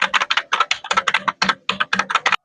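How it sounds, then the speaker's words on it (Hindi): Rapid keystrokes on a wired Zebronics mechanical keyboard, crisp clacks in quick uneven bursts with short pauses, close up and with no talking. "इसका टाइपिंग क्या गजब टाइप हो रहा है"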